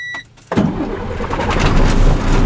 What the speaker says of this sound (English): I'm going to make sure it's in neutral, pushing my clutch in, my brakes are set, and I'm going to start my engine.